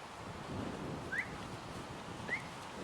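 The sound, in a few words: human whistling to call a horse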